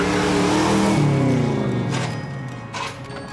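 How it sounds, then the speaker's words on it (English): A Gone in 60 Seconds Eleanor car drives and revs loudly nearby, its engine note sweeping down as it pulls away. "And we drive Eleanor just like it's supposed to be driven."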